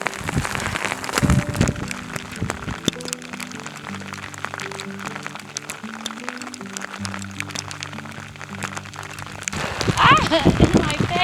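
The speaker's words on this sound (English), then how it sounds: "We're in the middle of a hailstorm." Hail patters in a dense, crackling rush on a mountain trail near the summit of Wheeler Peak in Great Basin National Park, steady for several seconds and swelling louder near the end, with a voice heard through it.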